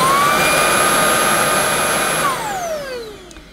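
A Shark Wandvac cordless vacuum cleaner runs close by with a loud, high whine and steady airflow rush, then powers down, its pitch sliding away as the motor spins to a stop.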